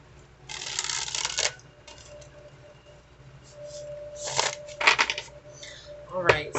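Tarot cards are shuffled by hand in a few short riffling bursts separated by quieter pauses, close and crisp, with a soft final flutter near the end.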